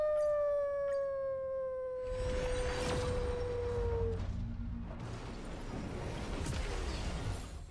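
A person mimics a wolf howl, one long sustained voiced tone that glides slightly downward, followed by crashing and smashing noises in a game scene.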